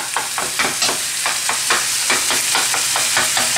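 Ground chicken stir-frying in a hot pan as it is broken up, a steady loud sizzle pulsing with quick, regular scrapes and stirs, close and without voices.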